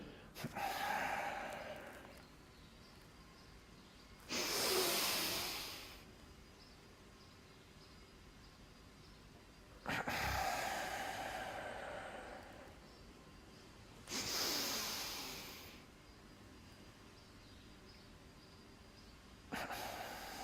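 Double breathing with tension during a Kriya Yoga energization exercise: four loud, forceful paired breaths, each a sharp double inhale-exhale burst, separated by several seconds of quiet, with a fifth beginning at the end.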